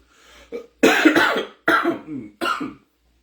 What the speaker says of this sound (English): Sorry, I've been fighting this cough since New York.